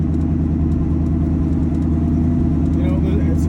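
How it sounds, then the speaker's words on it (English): Twin-turbo shop truck engine of about 900 horsepower cruising at 15 psi boost, a loud, close, steady low rumble with constant droning harmonics and a voice speaking over it. "15 psi is a 900 horsepower truck, and look at it, just cruising it like nothing."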